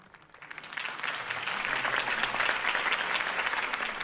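Crowd applause follows a political campaign speech in Batman: A Telltale Series, swelling from scattered claps into sustained, dense clapping that continues steadily throughout.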